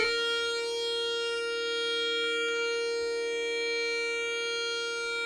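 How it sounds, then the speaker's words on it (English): A harmonium sustains a steady, continuous reed chord as its bellows push air, faint and even throughout, with a couple of brief clicks midway. "Up to the time I am flowing air through this bellow, you can hear a continuous noise like"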